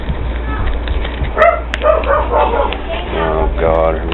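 Dogs barking and yipping in the background while someone unwraps electrical tape from a homemade survival pod keychain; the barks come in short bursts under talk and are moderately loud.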